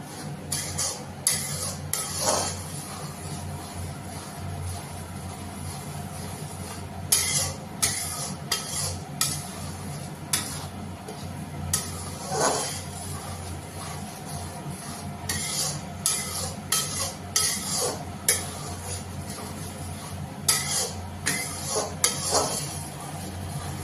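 Paneer gravy with whole green chillies being stirred in a pan, repeated clinks and scrapes of a spoon against metal over a low background hum at an irregular rhythm.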